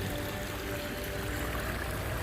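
Water pours steadily from a waterfall into the gravel basin of a pondless backyard water feature, a constant, soft, even rushing wash with no pauses.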